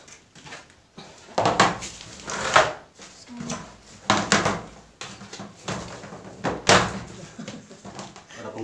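A plastic five-tier cabinet being assembled gives a series of sharp clicks and knocks as its drawer latch parts snap into place, several distinct hits spaced irregularly with handling noise between.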